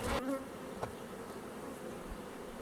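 Honeybees buzz steadily at an open hive while a new queen is introduced, a close, continuous hum with a few louder passes from bees flying near.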